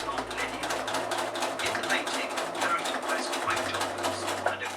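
An overlock sewing machine stitches a garment in a steady, rapid mechanical patter, running continuously at moderate volume close by.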